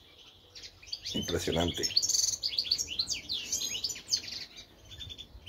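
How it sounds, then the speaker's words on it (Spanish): Caged decoy birds chirping in their cages, with rapid bright twittering calls that rise and fall over several seconds, and a brief spoken remark near the start. "Mira los pájaros, cómo tiran las alas en las jaulas de reclamo."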